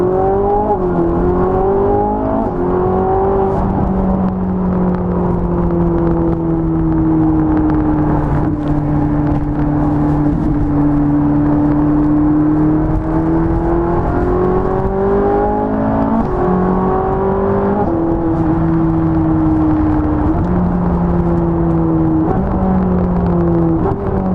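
A Ferrari 458 Italia with a full straight-pipe exhaust accelerates hard, its engine note climbing and holding through gear changes in a loud, steady roar that lasts throughout, with no talk.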